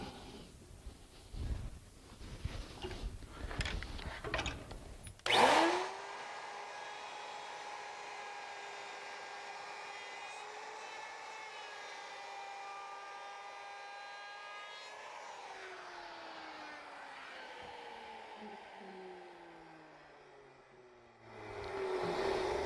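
A handheld wood router cuts timber with the workpiece overhanging a bench, a steady high whine sustained for around ten seconds before it winds down. Faint noise comes first, and nobody speaks.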